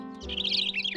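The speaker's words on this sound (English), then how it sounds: "Birds," Cartoon birds chirp in a city in spring, a quick run of high, bright tweets over a soft, steady musical backdrop, all within about a second.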